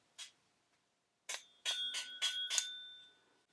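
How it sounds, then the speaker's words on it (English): A mechanical telephone bell salvaged from a phone rings in a short isolated ding, then a quick burst of four or five rapid metallic strikes with a lingering tone, close and fairly quiet. "I think this came out of a phone, because I think this is a mechanical bell."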